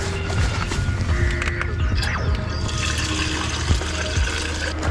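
Water running from a cemetery tap into a bottle on a bike tour, a steady close splashing gush with gurgling as the container fills, continuous for the whole stretch.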